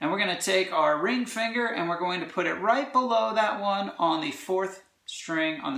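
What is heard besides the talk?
No everyday noises stand out.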